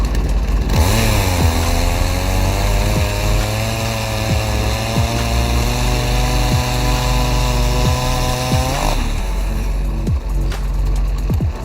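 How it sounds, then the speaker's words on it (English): A homemade firewood processing machine saws through a tree trunk, its engine droning loud and steady throughout while the blade's pitch rises and sags under load, then the cut ends and the motor winds down near the close. "the automatic advancement allows you to cut with a saw"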